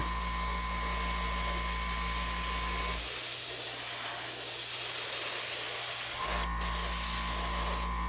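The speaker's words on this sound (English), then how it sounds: "spraying the white on here." A steady hiss of white spray paint on a dummy runs continuously, with a brief break and a mechanical hum underneath before the spraying resumes.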